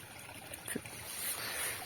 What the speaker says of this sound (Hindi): पानी का झरना है